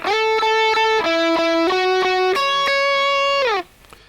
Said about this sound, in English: the Tube Screamer has this kind of mid boost that helps the lead lines really stick out.